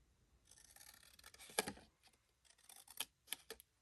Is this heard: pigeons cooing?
no